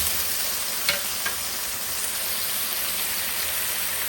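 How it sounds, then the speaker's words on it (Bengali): Prawns frying in hot oil for a Bengali prawn and Malabar spinach dish, a steady close, loud sizzling hiss with a couple of faint clicks from the pan, no voices. "আমি এখন তেলে চিংড়ি মাছটা দিয়ে দিব।"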